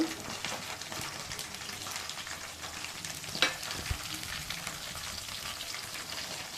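Cut beans and ginger paste sizzle and fry in hot tempering oil for a beans and potato curry. The crackling is steady and close, with a brief clink of a utensil partway through and no talking.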